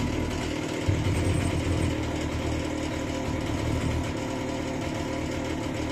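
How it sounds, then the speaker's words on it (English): Stihl 028 chainsaw engine idling after repair, a steady close mechanical putter with a rattling, ratchet-like texture and a slight bump in revs near the start, no talking. "Just gonna let it sit and idle"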